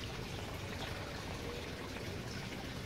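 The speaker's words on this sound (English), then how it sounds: "So let's give the plant water." Water poured onto a dying potted plant, a steady soft splashing and trickling that stays even and close for the whole stretch, with no voices.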